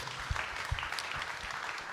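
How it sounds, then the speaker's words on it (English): Audience applause at a boxing broadcast-deal announcement, a steady wash of clapping with a few sharp, close claps standing out. "So please give him a big round of applause."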